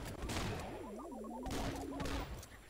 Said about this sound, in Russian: давайте еще одну взрывчатку сюда бросим